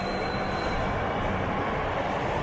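A Mumbai Metro Aqua Line train arrives at the Cuffe Parade underground terminal, producing a dense steady roar with a faint high wheel squeal, heard up close without talk.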